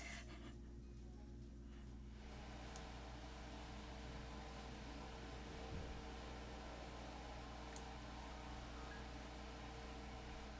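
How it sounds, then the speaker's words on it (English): A loud blender running in another room gives a steady, muffled, broadband whir that holds for the whole stretch, with no talking over it. "God, that blender is so loud."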